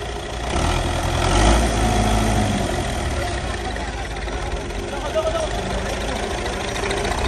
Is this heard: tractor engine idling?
yes